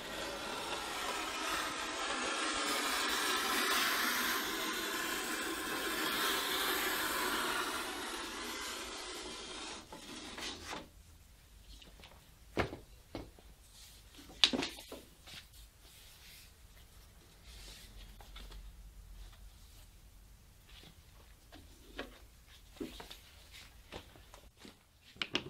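A leather belt strip cut on a vintage C.S. Osborne leather splitter: a long steady rasping rub at first, then quieter scraping with scattered sharp knocks and clicks, close up with no voices.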